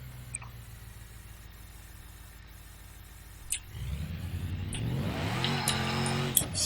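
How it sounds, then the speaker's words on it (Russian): In BeamNG.drive, a car engine idles with a low hum, then catches and revs up in rising, loud, steady surges with a few clicks, close and with no talking. "Ну а теперь заводим."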